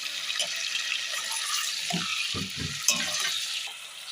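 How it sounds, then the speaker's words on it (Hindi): Chicken sizzling in a cup of hot oil with ginger and garlic, cooking for chicken korma, a steady close-up hiss of frying with a few soft stirring knocks and no talking. "हमने 1 कप तेल में अपनी चिकन डाल दी है गरम करके, और हम इसके अंदर ऐड करने जा रहे हैं अदरक लहसुन।"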